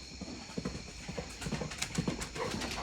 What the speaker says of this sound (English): I don't know if you can hear my horses running in the background.